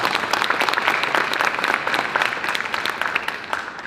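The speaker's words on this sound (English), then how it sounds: "Let's give them a big round of applause for that." Loud, dense audience applause at a conference opening session, a continuous roar of many hands clapping close and steady throughout.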